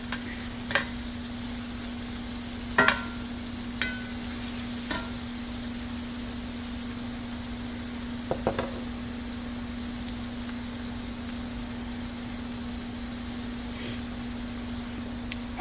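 Garlic fries in a pan on medium-low heat with a steady, soft sizzle, occasional sharper clicks and taps of stirring against the pan, under a constant low hum.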